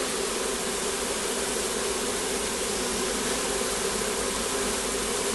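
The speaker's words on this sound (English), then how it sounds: "this is a swarm going into the hive" A honeybee swarm pours into a hive, a thick continuous drone of countless wings humming close and loud without pause.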